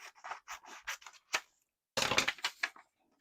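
Scissors snip through paper while envelopes are being made, a run of short crisp cuts followed by a brief pause and then a louder, denser burst of cutting, all close and without talking.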